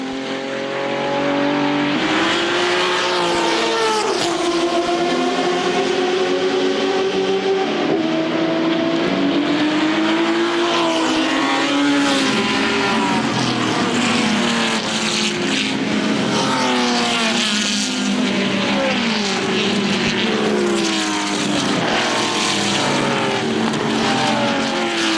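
Historic race cars circle Le Mans at night during the Le Mans Classic, among them a Chevron B21, their engines roaring loud and sustained, with pitch sweeps as cars rise and fall through the gears and pass close by, alone without talk.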